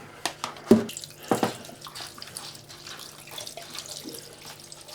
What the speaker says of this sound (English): So give it a quick rinse now.